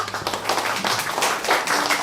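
An audience claps warmly to welcome guests at a 2023 youth startup results-sharing event in Gangbuk, a brief, dense patter of many hands with no voices over it.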